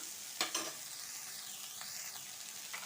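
Onions and potato gravy ingredients sautéing in a pan, a soft, steady sizzle with a couple of sharp spoon scrapes near the start and light stirring, quiet and without speech.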